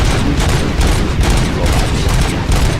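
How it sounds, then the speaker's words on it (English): Gunfire in the RoboCop: Rogue City video game, loud rapid bursts of shots crackling densely over the whole span, close and harsh with repeated sharp impacts. "Gunshots? What's going on?"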